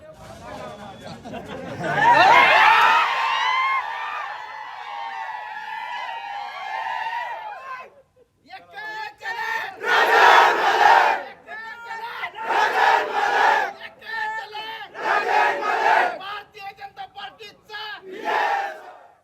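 BJP supporters in Angar celebrating a victory with a crowd roaring and shouting in bursts, loud cheers rising and falling with short gaps, voices chanting together, some laughter mixed in.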